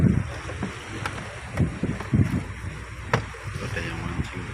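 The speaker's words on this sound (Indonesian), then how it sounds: "Gelombangnya gede-gede ombaknya." Strong wind buffets the microphone at sea amid big waves and boats, with gusty rumbling roars, splashing water and faint low engine noise throughout.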